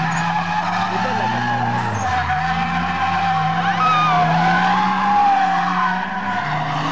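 A car engine roars at high revs while tires skid and squeal continuously, loud and close, with excited voices talking over it.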